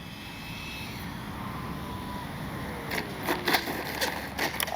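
A Freewing F-18 90mm model jet in Blue Angels livery lands on a runway and brakes, giving a steady whooshing engine roar with a falling whine and a few sharper bursts near the end, with no talk.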